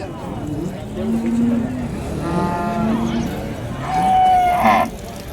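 Heifers at a native-breed cattle market in Krishnagiri district low out in several drawn moos, one rising higher near the end, over a busy background murmur.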